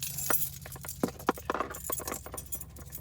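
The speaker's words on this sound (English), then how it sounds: "Gonna use my keys to open this one up." Keys slicing open a cardboard box during an unboxing, a few sharp scraping and tapping bursts with light clinking, close and fairly quiet, no talk.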